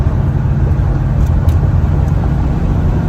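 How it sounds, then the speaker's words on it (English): A 1999 Dodge Ram Van 1500 campervan cruises on the highway, heard from inside as a loud, steady low roar of engine and road noise with no break. "Alright, on the highway now."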